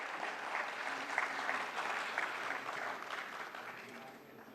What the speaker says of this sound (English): Can we have a huge round of applause here for Arpita?